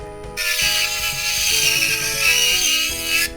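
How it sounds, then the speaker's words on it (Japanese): An Ultima AT handheld rotary tool for model making runs in a loud, steady high whine whose pitch shifts as its auto-torque feedback holds speed under load, with tonal background sound beneath. "そのオートトルクフィードバック機能が今発動したっていう音は分かるんですけど"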